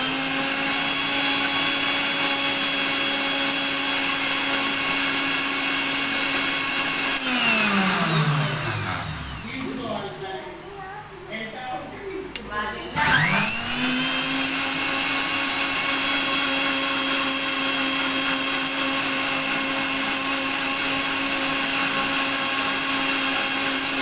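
A kitchen mixer grinder blends a healthy breakfast batter with a loud, steady high-pitched whir. Midway the motor spins down and stops briefly, leaving a short gap of rattling, then it revs back up to full speed.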